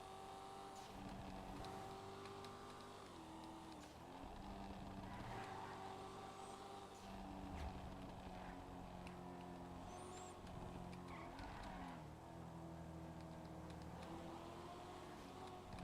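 A car engine in a GTA roleplay game hums steadily at moderate volume throughout, a continuous low drone with slight swells in revs and no talk over it.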